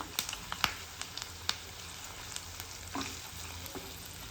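Curry leaves sizzle in hot oil for a tempering, a quiet crackling fry punctuated by sharp clicks and scrapes of a spoon stirring the pan.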